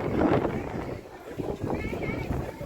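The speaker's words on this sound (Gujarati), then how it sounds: "અહીંયા જોઈ તમને બતાડું એકદમ ઠંડો પવન આવી રહ્યો છે" Blustery cold wind rumbles and buffets against the microphone outdoors near a temple in Dwarka, with a voice speaking over the gusts.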